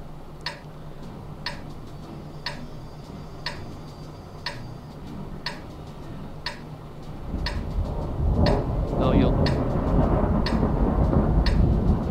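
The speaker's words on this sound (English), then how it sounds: "I think I can do without the thunder, lightning, or that's supposed to be artillery." Heavy booming of thunder or artillery fire in the World of Tanks tank battle game, a deep rumbling roar that swells up in the second half over a steady, evenly spaced ticking.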